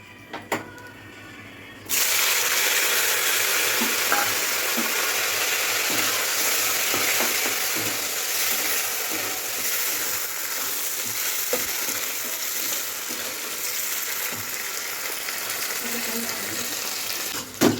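Onion sizzling and frying in a pan after two bay leaves went in, a steady loud crackling hiss that begins abruptly and keeps on with occasional stirring clinks and spatters.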